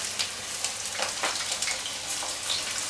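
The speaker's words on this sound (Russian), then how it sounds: "Ох, как быстро жарится, слушай." Chicken pieces frying in a pan, a continuous close sizzle and crackle with faint scattered pops, no voices over it.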